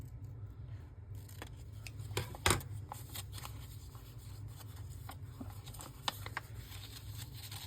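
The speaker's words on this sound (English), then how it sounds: "just trim that so that you can get a sharp edge like so" Scissors trimming the edge of a paper tag for a junk journal, a few crisp close snips and light paper rustling, with one louder cut near the middle, quiet and without talk.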